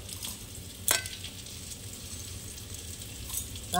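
Potatoes fry in oil in a pan with a steady, close sizzle and a few louder scraping stirs, and no one speaks.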